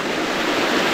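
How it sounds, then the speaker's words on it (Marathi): A waterfall below a dam in a Konkan village rushes in a steady, loud, broadband roar, unbroken water noise close by with no voices. "धबधबा. बुशी डॅमची कमाल."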